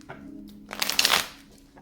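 A deck of tarot cards is riffled once in a short, crisp shuffle that swells to a papery flutter and fades, close up and otherwise quiet.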